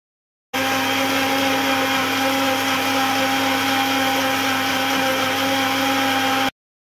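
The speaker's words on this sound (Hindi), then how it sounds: "और अब फिर दोबारा हम ब्लेंडर को ऑन कर देंगे।" A blender whirs steadily as it blends eggless mayonnaise after more oil is added, a loud, continuous motor drone lasting about six seconds with no one speaking.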